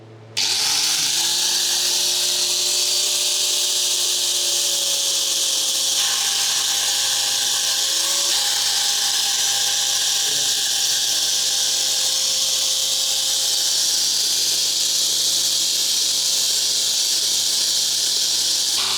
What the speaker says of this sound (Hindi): इस ग्राइंडर को काफी टाइट ग्रिप करके अपना काम स्टार्ट करते हैं